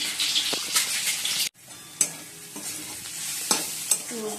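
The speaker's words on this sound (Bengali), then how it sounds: "পেঁয়াজটা ভেজে নিচ্ছি," Onions frying in a pan make a constant near sizzle, with a sudden brief break. Spatula scrapes and taps punctuate it at irregular intervals, with no talk.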